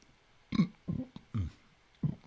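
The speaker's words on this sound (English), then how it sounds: "big burps" A few low, guttural burps close to the mic, quiet and separated by short pauses, with no talk between them.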